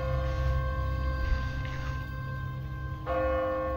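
An automatic church bell in The Walking Dead game tolls with long, ringing overtones, one strike sustaining and a fresh clang arriving near the end over a low droning backdrop.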